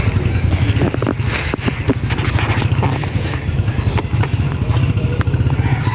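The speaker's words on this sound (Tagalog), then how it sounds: "pinapainit lang yung motor" A motorcycle engine idling steadily while warming up after sitting for days, a loud close chugging drone with wind buffeting the microphone throughout.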